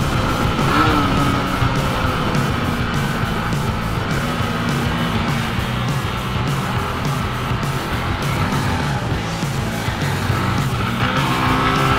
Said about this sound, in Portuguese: Ai, ele tá acelerando!